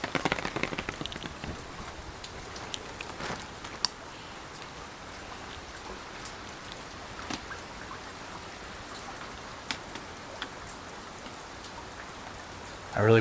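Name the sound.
rain falling near a temple in Japan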